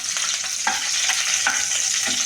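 Chillies fry in hot oil in a pan for a radish curry, giving a steady close sizzle with a few soft stirring scrapes.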